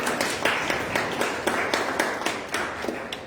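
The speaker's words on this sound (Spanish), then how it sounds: "Muy bien, aplausos, por favor." A small audience at a poetry recital claps, with distinct, fairly regular individual claps rather than a thick roar, close and moderately loud throughout.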